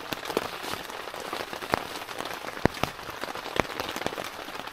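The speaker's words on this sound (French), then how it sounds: "Un souper cosy au son de la pluie." Steady rain drumming on the fabric of a hot tent during a wild camping trip, a dense continuous patter with sharper individual drops striking now and then, close and even throughout with no voices.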